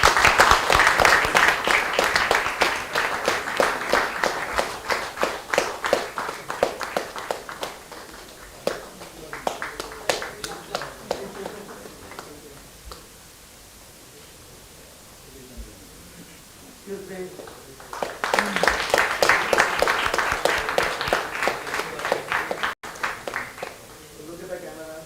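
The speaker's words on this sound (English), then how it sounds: "Ladies and gentlemen, please do not forget to clap for them." At a national banking quiz final, an audience applauds the Canara Bank prize winners with loud sustained clapping. It fades in the middle while an announcer talks, then swells again.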